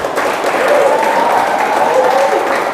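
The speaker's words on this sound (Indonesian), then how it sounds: "tepuk tangan untuk kalian semua" A crowd at an Isra Mi'raj religious gathering breaks into loud, sustained applause, clapping dense and continuous, with voices mixed in.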